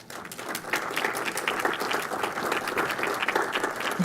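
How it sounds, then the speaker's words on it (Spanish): Guests at a book presentation applaud with steady, dense clapping that runs at moderate volume after a brief quieter start. "un fuerte aplauso para todos los invitados"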